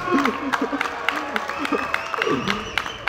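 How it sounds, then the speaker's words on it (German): An audience claps and cheers in a crowded hall at the FIBO 2024 fitness expo, the applause scattered and moderately loud, with voices talking and shouting over it. "Bitte dicken Applaus für den Jungen hier."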